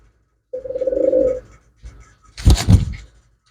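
Pigeons cooing up close: one long throaty coo, a short pause, then a louder burst of rough cooing and fluttering near the end.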